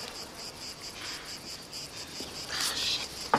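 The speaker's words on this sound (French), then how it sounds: "Les mouches." Insects buzzing steadily outdoors on a sunny summer day, a continuous whining drone of flies with brief louder swells as one passes near, no talking.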